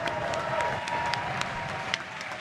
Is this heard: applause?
yes